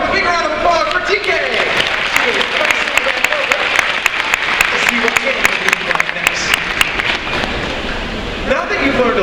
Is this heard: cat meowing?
no